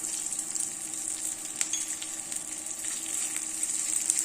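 A light sauté of ingredients in a pan with asafoetida added gives a steady, bright crackling sizzle, close and even, with small stirring clicks over the short stretch.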